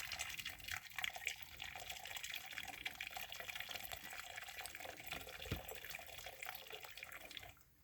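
Hot water runs and splashes steadily through a funnel into a bourbon barrel for several seconds, a continuous close-up pouring sound that cuts off at the very end.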